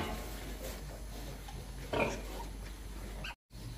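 Sow with piglets on a farm grunting softly, low snuffling grunts throughout with a slightly louder burst near the middle, fairly faint and close.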